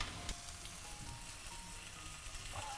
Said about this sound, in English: the frying sound, so that you can fry the soy sauce